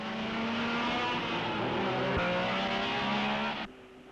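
A Porsche racing car at the 1961 Belgian Grand Prix, its engine holding a loud, sustained tone as it passes close by, then cutting away sharply near the end.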